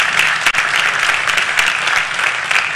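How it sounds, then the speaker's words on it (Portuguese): A church congregation applauds loudly and steadily, a dense wash of many hands clapping close by with no pause, filling the whole room. "Quantos podem aplaudir a majestade de Deus?"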